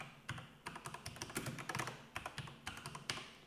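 Rapid bursts of keystrokes on a computer keyboard as a drive name is typed into a Windows box, close and crisp in uneven clusters with short pauses, no voices.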